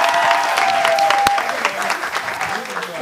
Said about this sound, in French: On applaudit pour les deux déjà pour commencer.